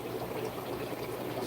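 Water pouring into a bag of powder, a brief, steady gurgling fill at moderate volume up close.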